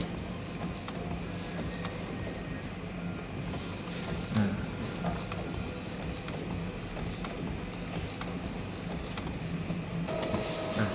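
An inkjet printer runs a print pass onto an ink-coated card, giving a steady mechanical whir with faint clicks and shifts of the carriage throughout, close by with no voices.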